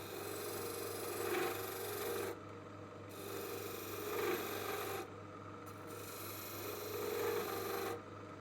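Carbide beading cutter on a wood lathe scraping into spinning beech, a steady rasping hiss that swells and eases in three passes, each ending in a brief quiet gap.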